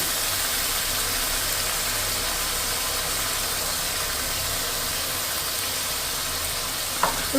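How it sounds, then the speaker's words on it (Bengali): Tomato paste frying and being stirred in a pan for a cauliflower and potato curry, a steady close sizzle throughout with a few sharper scraping clicks near the end. "টমেটোর পেস্টটা দিয়ে আমি একটু নেড়ে চেড়ে ভালো করে কষিয়ে নেব"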